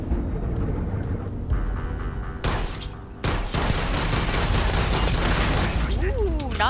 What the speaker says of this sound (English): I'll try my best to take some shots on the dang turret.